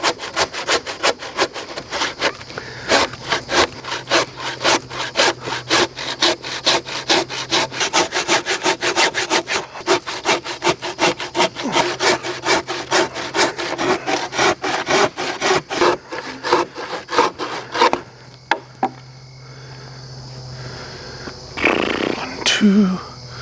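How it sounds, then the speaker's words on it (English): A handsaw cuts timber for a firewood shed out in the woods with fast, rhythmic rasping strokes close by, then stops and is followed by some knocking and handling noise. "I'm gonna be doing it with a handsaw"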